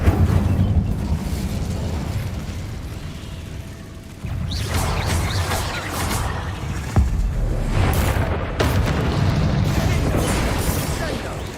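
Incendio fire spell cast in the Hogwarts Legacy video game, with bursts and booming blasts rising out of a dense, continuous mix of combat noise and music, a sharp hit near the middle.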